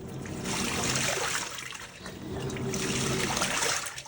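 A Panasonic 9.5kg top-load washing machine on a power wash cycle, agitating its load with loud, surging swishes of water that rise and ease in repeating waves, close by.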